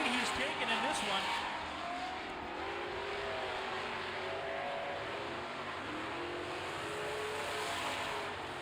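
Super trucks race through a heat on an oval track, engines droning and revving steadily at mid distance while an announcer talks over the noise throughout.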